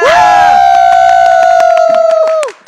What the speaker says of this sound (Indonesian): MPL Arena, mana tepuk tangannya?